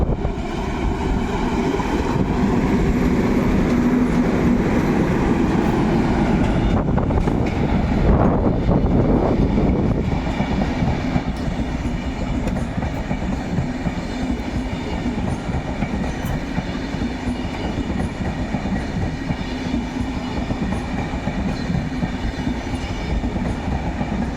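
An Intercity passenger train hauled by two diesel locomotives, a Nurek and a Turbo Stonka, roars past at close range in Poland, a continuous heavy rumble with rolling wheel clatter and a surge of noise partway through.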